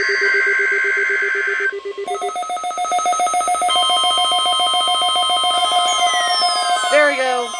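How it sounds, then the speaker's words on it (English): NOAA weather radio warning alarm tone during a weekly emergency alert system test, a loud sustained electronic tone that shifts pitch partway through and holds steady, with digital squawks near the end. "This is a test of the NOAA weather radio warning alarm device and the emergency alert system."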